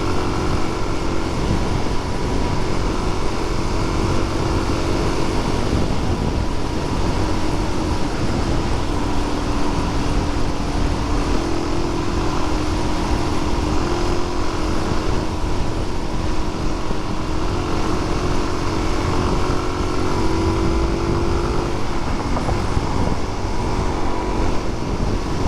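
Steady broadband engine and wind roar from a 2022 Suzuki DRZ400SM supermoto motorcycle being ridden, a continuous drone with shifting tonal engine hum and heavy wind buffeting throughout.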